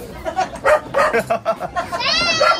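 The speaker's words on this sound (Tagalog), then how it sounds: "Ay, may aso." A dog yips and barks in short, quick bursts at close range, mixed with people talking, followed by a rising whine near the end.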